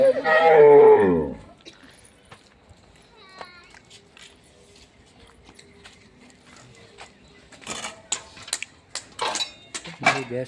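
One of two buffaloes kept for milking lets out a single loud, drawn-out low moo. Quiet follows, then scattered clanks and rustles nearby.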